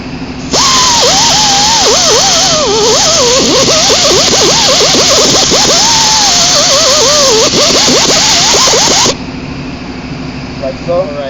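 A power sander runs loudly and continuously against the bolt frame of a railroad train motor, a harsh high whine that starts abruptly, holds for about eight seconds, then cuts off, with a voice talking over it.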